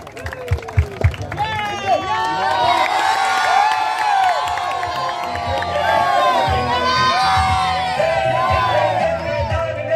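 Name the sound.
crowd applauding and cheering for winning team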